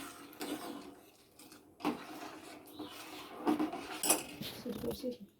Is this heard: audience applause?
no